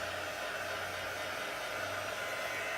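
A handheld heat dryer blows a steady, even hiss of air onto a freshly stamped paper card page, continuous and close throughout with no talking.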